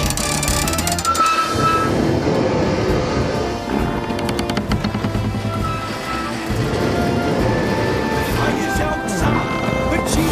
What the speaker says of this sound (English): The train's fine.